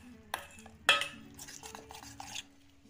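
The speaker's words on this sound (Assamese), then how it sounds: "এতিয়া অলপ অলপকৈ পানী দি পেলাই এইখিনি ফেটিব লাগিব" Banana chip batter being whisked with water in a bowl, a few sharp utensil knocks against the bowl followed by soft irregular stirring and clinking, close and quiet.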